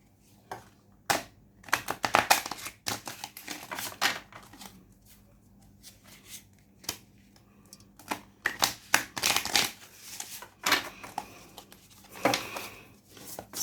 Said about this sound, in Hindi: यहाँ पे हमारे पास आ चुका है Oracle cards. Right now let me shuffle it properly